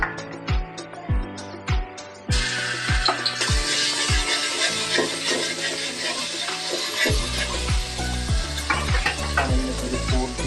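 Onion paste hits hot white oil in a pan for a fish curry, a loud, steady sizzle bursting in after about two seconds and continuing close up, with a regular low thumping beat underneath.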